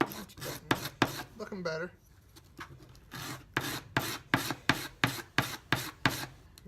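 Coarse, heavy-duty grit sandpaper rasps back and forth over wood by hand in a steady run of rhythmic, close strokes, with a brief spoken remark partway through.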